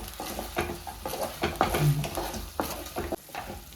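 Gobi Manchurian, battered cauliflower pieces, frying in hot oil, giving a steady crackling sizzle with a few scraping stirs and light clinks from the pan, close and continuous with no talk.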